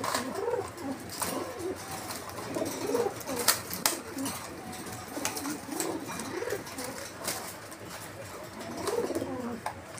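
Pigeons coo in repeated throaty rolls, with scuffling and flapping bursts as several birds fight nearby, fairly quiet overall.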